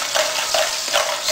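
Butter and boiled potatoes stirred in a sizzling pan, the spoon scraping in a steady rhythm of repeated strokes over continuous frying hiss, close and loud.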